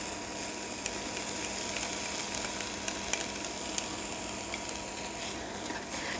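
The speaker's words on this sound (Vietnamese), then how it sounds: "Cho vào xong thì các bạn xào tới khi nào nhân của mình chín hẳn." Carrot, wood ear mushroom and meat filling for bánh cuốn stir-frying in a pan: a steady, soft sizzle with occasional scrapes and light stirring sounds, no talking.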